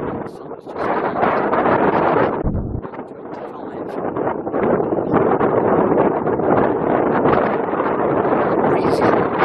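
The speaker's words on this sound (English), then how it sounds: "Breezy in the west." Strong wind on an exposed coast path by the sea buffets the microphone in loud continuous gusts, briefly easing before roaring back.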